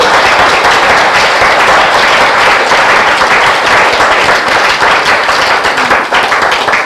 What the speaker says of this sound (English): guys, please let us clap hand for this team